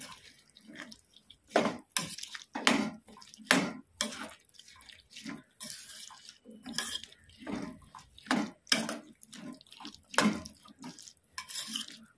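Water poured in small splashing additions into a pan of chickpea curry for chole masala, with repeated loud splashes and drips against a low kitchen background, no talk.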